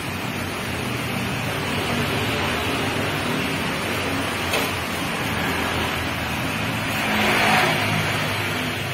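Diesel engine of a 1982 Toyota Land Cruiser hardtop idling steadily with the hood open, a close, continuous rumble that swells briefly near the end.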